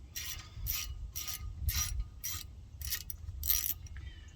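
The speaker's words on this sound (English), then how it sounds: "let me go ahead and pull those bolts out" A ratchet clicks in about seven quick bursts, close and clear, as bolts come out of the front wheel bearing assembly on a 2006 Lincoln Navigator.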